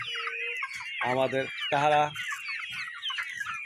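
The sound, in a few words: Bahama chickens clucking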